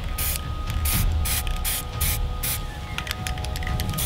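An aerosol spray paint can puts base coat on miniature models, about six loud, hissing bursts in a steady rhythm, then quicker short puffs, with mechanical clicking in between.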